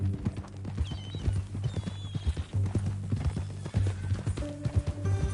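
Steady clip-clop of horse hooves at a walking rhythm in the video game Red Dead Redemption 2, fairly close, with a brief whinny and other faint background sounds.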